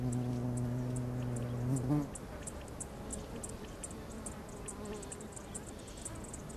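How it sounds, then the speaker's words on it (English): Desert flies hover near flowers with a steady high buzzing, joined by a louder low drone that stops after two seconds. A fainter rapid ticking and whirring continues over soft background noise. "the flies are soon burnt out by their expensive hovering flight"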